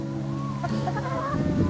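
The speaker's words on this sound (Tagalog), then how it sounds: "Ito yung manok." A fighting rooster gives soft, low clucks, a few brief throaty notes close by over a steady background hum.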